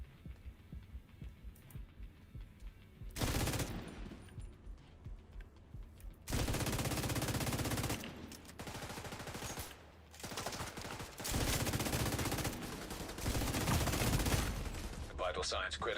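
Gunfire in the video game The Division: long sustained bursts of automatic shooting alternating with quieter stretches, loud and close, with someone talking at times.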